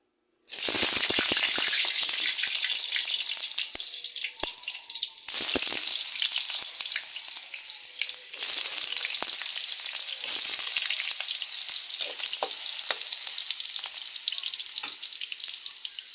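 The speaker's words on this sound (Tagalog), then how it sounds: "Iprito ko muna yung patatas." Potatoes frying in hot oil for adobong itlog, a loud, continuous close sizzle that bursts in when they hit the pan and stays strong throughout, with occasional stirring clatter and no talk.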